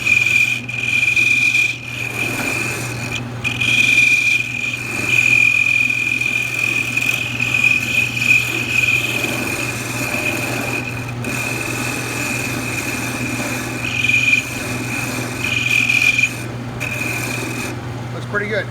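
Wood lathe spinning while a small knob is turned, a steady hum with a constant high whine and rasping tool contact rising and falling throughout, fairly loud and continuous.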